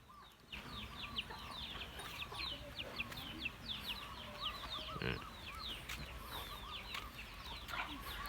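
Chickens cluck and chatter continuously in a backyard duck and chicken yard, several birds close by at moderate level, with short bursts of sharper calls and a faint rustle of wings.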